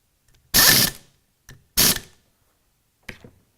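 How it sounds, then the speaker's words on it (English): A ratchet drives T25 Torx screws to fasten new friction material during a Kit Masters fan clutch rebuild: two longer ratcheting bursts and two brief ones, each separated by silence, close and clear. "Now we'll install the new friction material using a T25 Torx bit."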